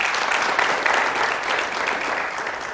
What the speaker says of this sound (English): Please, a round of applause for our guest.